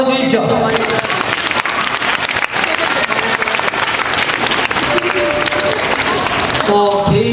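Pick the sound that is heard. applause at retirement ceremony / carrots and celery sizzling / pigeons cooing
applause at retirement ceremony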